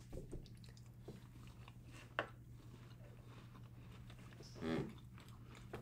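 People chew High Key cookies close up, with soft crunching and squishy bites over a quiet background hum and a louder munching burst near the end, with no talking.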